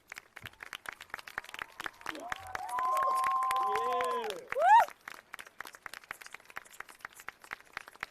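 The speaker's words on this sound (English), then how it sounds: "please stand and give a round of applause for our outstanding faculty and staff" Graduating high school class and crowd at a 2025 graduation ceremony clap for faculty and staff, with sparse scattered claps sounding quiet and distant, and a brief tonal, voice-like swell in the middle.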